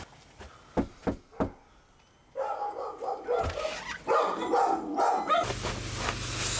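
A sled dog barks in a few short, sharp bursts early on, then busier, louder sounds with voices take over toward the end.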